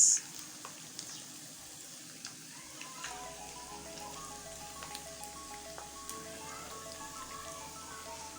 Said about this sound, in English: Let it do its frying.